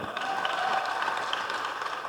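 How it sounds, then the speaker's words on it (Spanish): A church congregation applauds during an evening worship service, giving a steady, fairly faint wash of clapping throughout with no speech over it. "Démosle un fuerte aplauso al Señor."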